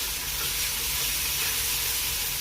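Spice masala for egg curry fries in a pan, giving a steady close hiss and sizzle with a faint bubbling texture and no talk.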